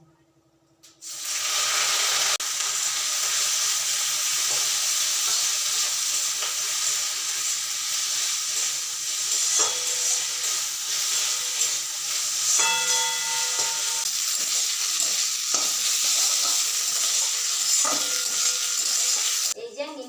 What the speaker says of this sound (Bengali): ওই তেলে এখন নিম পাতাটা ভেজে নেবো